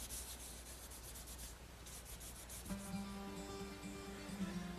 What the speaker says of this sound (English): I'm going to use some 600 grit wet dry sandpaper to rub it in